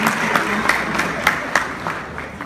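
A church congregation claps together in a moderate, even round of applause, the sound filling the hall with a soft rhythmic wash of many hands.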